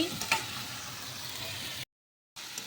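Potatoes, onion, garlic, tomato and green chili are frying in a pan, giving a faint, steady sizzle with a light scrape near the start. The sound cuts out briefly near the end, then the sizzle returns.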